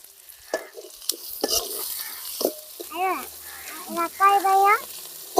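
Onions stirred and frying in a pan for a potato kurma, giving a soft sizzle with several sharp scraping strokes of a utensil, while a person talks intermittently over the cooking.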